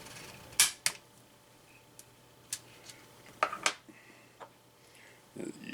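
Diana Stormrider .22 PCP pellet rifle having its magnetic magazine pressed in and bolt closed, a few sharp plastic-and-metal clicks and snaps, close and fairly quiet, separated by short pauses.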